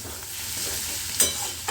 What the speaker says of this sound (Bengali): আর একটু ভাজা করব।